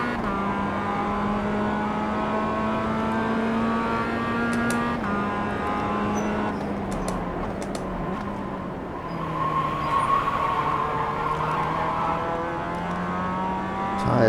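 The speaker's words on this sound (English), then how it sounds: "Tires squeal." A Mazda MX-5 Cup car in the iRacing sim squeals its tires at The Bend West Circuit. The squeal is a sustained, fairly loud whine layered over the steady drone of the engine, with no voices.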